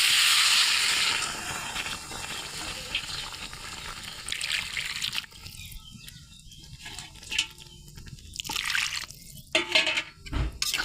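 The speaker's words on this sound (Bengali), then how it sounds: "এখন পানি দিয়ে দেবো।" Water pouring into a pan of sautéed drumstick and potato curry, a steady rushing hiss that fades into sputtering sizzle and a few sharp splashes and clinks.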